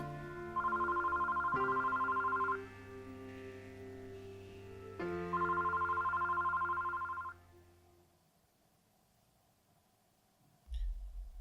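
A telephone rings in two long electronic bursts separated by a pause, loud and close with no voices, then cuts off into quiet room tone.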